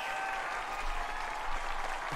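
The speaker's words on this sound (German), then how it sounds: "Da kann man mal klatschen" A studio audience at a quiz show claps in a sustained, even roar of applause, fairly distant and uniform, with no clear speech on top.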